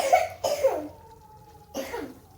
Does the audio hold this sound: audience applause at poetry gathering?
no